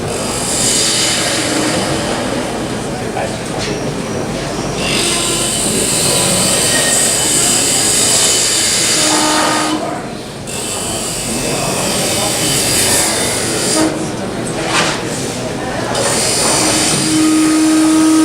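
A spindle gouge cutting a wooden lidded box on a wood lathe, a loud steady whirring hiss of the spinning wood and tool that briefly dips, with talk over it.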